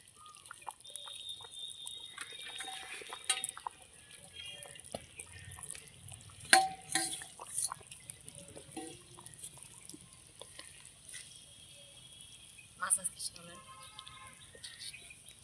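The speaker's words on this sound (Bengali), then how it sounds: "দেখুন কি সুন্দর ফুটছে মাছের ঝোলটা, টকবক টকবক করে।" A Bengali fish curry with mirka fish and new potatoes bubbles on the boil. Quiet, irregular pops and blips sound close by against a low background, with a few sharper bursts.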